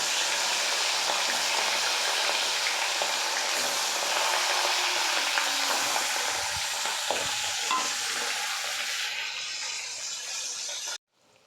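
Hilsa fish heads fry in a pan, giving a loud, continuous sizzle with stirring scrapes that holds steady and then cuts off abruptly at the end.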